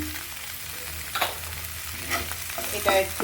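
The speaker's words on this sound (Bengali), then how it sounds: "এখন আমি দিয়ে দিচ্ছি পেঁয়াজের কুচি" Chopped onions hit hot oil in a pan and sizzle steadily up close, with a few stirring scrapes and a brief spoken remark partway through.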